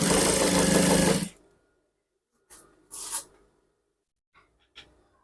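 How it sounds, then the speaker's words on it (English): A sewing machine top-stitching the waistband of trousers being taken in, running in one steady loud burst of stitching, then stopping into near silence broken by a few short handling noises. "So now I'm going to top stitch it."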